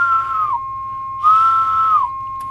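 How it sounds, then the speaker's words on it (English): A tone generator on a CB radio bench, used with a GE Model 3-5869A base station, hums a steady, pure tone, overlaid twice by a slightly higher whistling tone that glides down and merges back into it. "let me turn off my tone generator here now"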